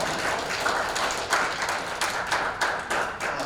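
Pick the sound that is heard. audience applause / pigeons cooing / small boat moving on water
audience applause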